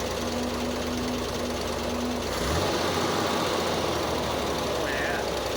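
A 1961 Corvair Lakewood flat engine running at its first start in 25 years, a steady close rattling idle with a brief rev as fuel is given partway through.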